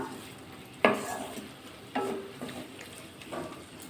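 Potatoes and okra frying in a pan are stirred with a utensil, giving a few sharp scrapes and clatters over a soft, continuous sizzle, with no voices.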